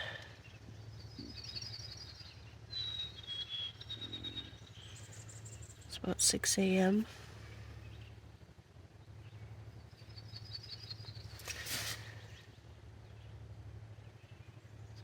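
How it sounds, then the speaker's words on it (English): Birds sing at dawn at a campsite, with scattered high chirps over a low steady hum and insect buzz, faint and distant. Someone speaks briefly, and a sharp rustle or knock comes midway. "It's nice to hear the birds."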